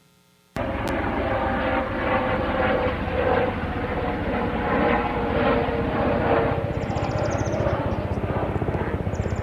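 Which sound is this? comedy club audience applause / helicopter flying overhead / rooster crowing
helicopter flying overhead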